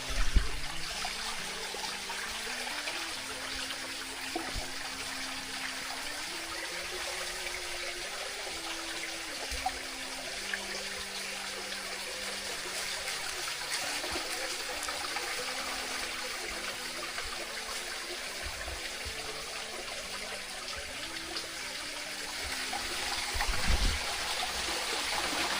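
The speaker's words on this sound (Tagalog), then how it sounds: "Yun, pinakawala mo yung tubig." Released water flows and trickles steadily outdoors, a continuous stream sound with occasional splashes and knocks.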